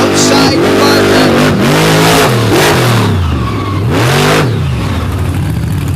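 A monster truck engine at a Naples, Florida monster truck show in 2024 revs hard during a competition run, its throttle rising and falling in repeated loud, close surges with bursts of wailing pitch.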